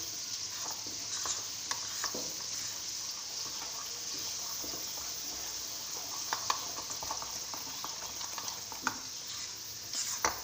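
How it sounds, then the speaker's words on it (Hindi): Gram flour is stirred into a spiced kari pakora mixture, a steady wet scraping and mixing close by, continuous for the whole stretch with occasional sharper clicks of the spoon. "अब इन चीज़ों को मिक्स कर लूँगी"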